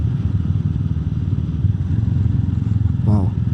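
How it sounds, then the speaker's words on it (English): A Royal Enfield Meteor 350 single-cylinder motorcycle exhaust burbles steadily up close, a low, rhythmic thumping pulse with a brief faint voice near the end. "Wow, this bubble sound of the exhaust, very nice."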